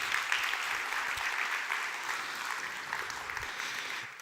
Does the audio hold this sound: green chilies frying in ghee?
no